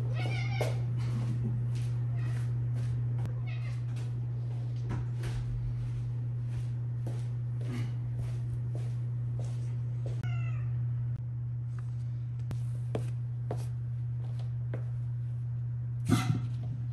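A cat meowing and yowling repeatedly at a hose during a reef aquarium water change, its calls coming in irregular bursts over a loud, constant equipment hum, with a sharp clatter near the end.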